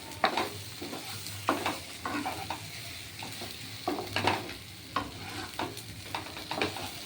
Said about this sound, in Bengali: দেখুন এবার আমার এই মাথাগুলো দিয়ে দিলাম সব মাথা দিয়ে এটা আবার কষানো হবে